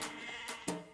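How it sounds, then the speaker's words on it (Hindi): Sheep and goats bleating, a few nearby wavering calls in quick succession, the last one loudest, with no talking. "भेड़ बकरियां भी उतरेंगी।"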